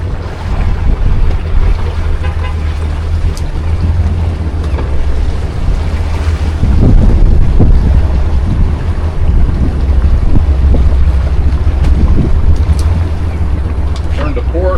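Sea Ray 270 boat with a single outboard engine running on the water, a steady low drone under heavy wind buffeting the microphone, with water wash and someone talking over it.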